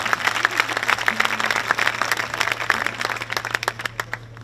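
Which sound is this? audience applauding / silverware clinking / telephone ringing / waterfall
audience applauding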